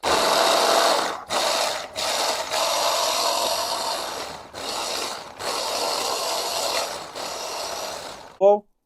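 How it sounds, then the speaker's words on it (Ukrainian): A 1000 W blender grinding cabbage and onion, running in several loud bursts with short pauses between them, followed by a brief knock at the end. "капусту перемололо, ще вон цибулька, ну ще раз домолимо"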